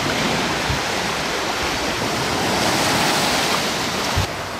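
Surf washes onto a Hawaii beach in a steady, continuous roar of broken waves. There are a couple of faint low thumps and no talking.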